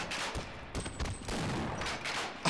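Shotgun blasts in the video game Half-Life, several loud, close booming shots in quick succession with a burst of noise at the very end.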